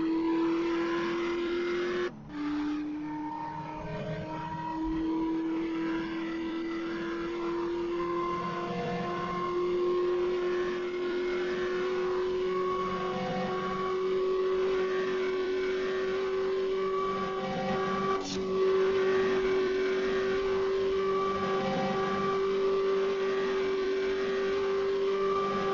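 Car accelerating quickly, the engine note rising steadily as it picks up speed, with a clear tonal whine and engine hum heard from inside the vehicle, loud and sustained, with no talk.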